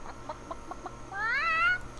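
A video game chicken gives a few quick soft clucks, then a louder rising squawk, alone against quiet background game ambience.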